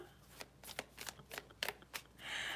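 Tarot cards being shuffled close up: several quick riffling bursts and soft slaps in an uneven rhythm, ending in a longer rustling riffle, quiet and with no voices.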